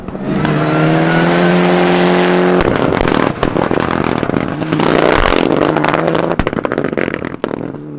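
A rally car on a winter rally stage at Shackleton, loud and close, with a high steady engine note that breaks into rough revving, gear changes and clattering as it powers past, filling the whole clip.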